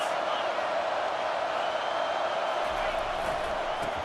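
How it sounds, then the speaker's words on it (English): Football stadium crowd at a Washington versus Tennessee game, a steady, loud wash of roaring fans sustained throughout without a break, with a commentator speaking over it. "This crowd trying to make life miserable for this offense."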